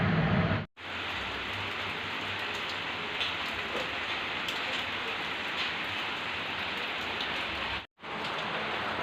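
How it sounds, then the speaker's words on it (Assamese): Steady, dense rain pours outside a home kitchen, a continuous close hiss of drops on surfaces that cuts out briefly twice. "চাওকচোন বৰষুণ দিয়ে আছে এতিয়াও।"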